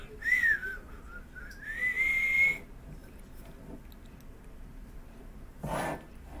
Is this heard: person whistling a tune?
yes